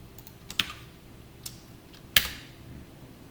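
Scattered keystrokes tap on a computer keyboard, a few sharp clicks separated by pauses, with a louder cluster near the end, close and clear over a quiet background.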